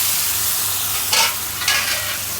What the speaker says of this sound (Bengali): মাছের মশলা কষাই নেই